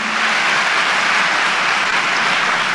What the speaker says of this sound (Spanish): Dale ese aplauso, dáselo.